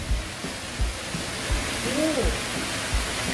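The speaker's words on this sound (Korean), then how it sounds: "시장 안에 폭포가 있네" A small indoor waterfall inside Seogwipo Maeil Olle Market on Jeju rushes with a steady, even hiss, while nearby voices talk and low thumps recur over it.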